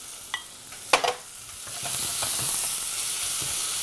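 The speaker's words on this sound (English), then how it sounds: "And here the pork cheek is going in." Pork cheek drops into a hot pot for a beer soup, giving a couple of sharp clatters before a steady, moderate sizzle and hiss spreads and holds to the end.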